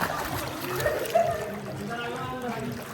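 Water sloshing and splashing in a swimming pool as a swimmer ducks under and comes back up, a steady watery trickle and churn with a couple of brighter splashes, faint voices in the background.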